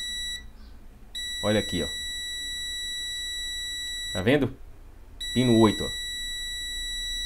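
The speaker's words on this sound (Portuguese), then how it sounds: "O multímetro já bipa." A multimeter on continuity setting probes a pin on a desktop motherboard with a short, sounding a steady high-pitched beep that cuts in and out while someone speaks over it.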